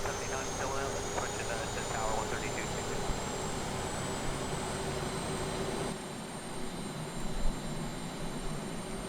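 A simulated Boeing 737-300 jet engine starts up in the IXEG flight simulator, a steady whining roar with a high tonal whistle that holds throughout, with a voice talking over it.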